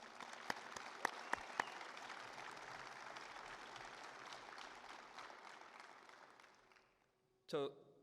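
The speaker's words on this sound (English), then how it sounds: "please give Paul a round of applause" A Hall of Fame ceremony audience gives a steady round of applause that fills the room, with a few louder nearby claps at the start, fading out before a short burst of voice at the end.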